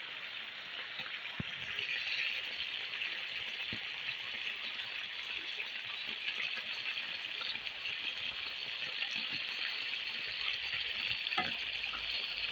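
Beef frying in a pan, a steady close hiss and sizzle with light crackling pops throughout, continuous and even, with no talking over it.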